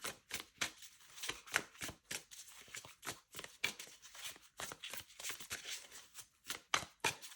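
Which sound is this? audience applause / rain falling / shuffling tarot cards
shuffling tarot cards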